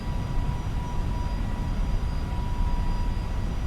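An Airbus A321neo climbs in a flight simulator game, giving a steady, loud broadband engine roar that holds evenly without pauses.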